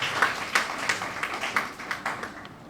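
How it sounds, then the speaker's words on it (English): An audience at a language centre event for an indigenous language spelling competition applauds, with a short run of scattered hand claps at an uneven rhythm, moderately loud in a room. "Let's give us a round of applause."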